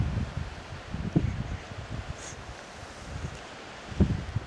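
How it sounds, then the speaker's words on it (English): Faint, gusty wind rumbles and rustles against the microphone outdoors on a mountain, South Baldy, with low buffeting bursts coming and going. "you can probably hear the wind."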